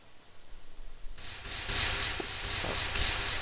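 Poured lava in a video game sets off a sudden loud, sustained hiss that bursts in after a quiet start and keeps rushing steadily to the end, with no talking.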